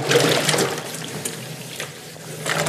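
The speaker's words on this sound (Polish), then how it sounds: "umyjecie przez właśnie metodę przelania wody przez ten zbiornik" Water is poured through a mortar hopper container to rinse it out, a steady rushing, splashing flow that stays fairly loud and even throughout, with no voices.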